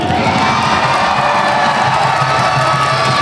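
Football stadium crowd at Gimpo Solter pitch cheering and shouting for Gimpo FC players after a 3-0 win, a loud, dense, sustained roar of many voices with whoops, close and continuous throughout.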